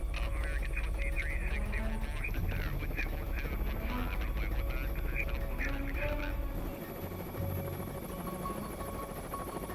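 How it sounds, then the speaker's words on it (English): Marine One, the presidential helicopter, approaches the landing pads at the South Lawn, its rotors a loud, continuous droning whir that drops slightly in pitch partway through, with a narrator speaking over it. "One helo heads straight for the landing pads."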